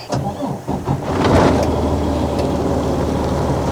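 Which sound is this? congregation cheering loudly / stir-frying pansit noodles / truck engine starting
truck engine starting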